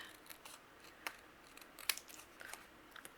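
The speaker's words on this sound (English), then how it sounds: "We'll just trim off the excess clouds here" Scissors trim excess paper clouds for a shaker card, giving a few quiet, close snips and small paper rustles spaced over a few seconds.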